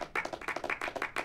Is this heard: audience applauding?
yes